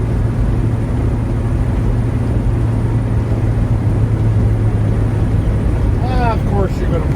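A 1966 Chevelle SS convertible cruising, with a constant low engine rumble and road roar heard from inside the car, steady and loud throughout, plus a brief squeaky chirp near the end.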